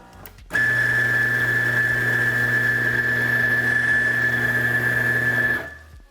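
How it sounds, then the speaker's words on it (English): William coffee grinder grinding coffee beans, a loud steady motor whine with a strong high tone, running about five seconds close up before spinning down. "So we'll use the William grinder here."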